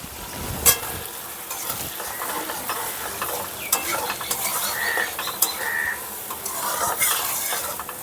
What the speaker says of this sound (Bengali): এখন মশলাটাকে কষাতে থাকবো